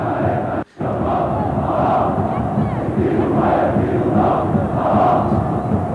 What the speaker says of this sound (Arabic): ادي جمهور، نسمع صوت الجمهور كده يا جماعه